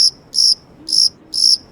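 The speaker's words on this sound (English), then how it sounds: "Crickets." Crickets chirp in four evenly spaced, bright pulsed bursts, close and clear against a quiet background with no other sounds.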